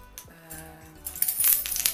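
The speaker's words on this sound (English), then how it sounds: "Got my home keys." Home keys on a ring hung with tags and charms jangle as they are pulled from a handbag, quiet at first, then a bright cluster of metallic clinks close by.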